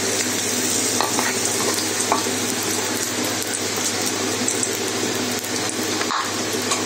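Chopped onion frying in about two tablespoons of soybean oil for chana bhuna, a loud, continuous close sizzle with a bubbling hiss and occasional stirring scrapes throughout.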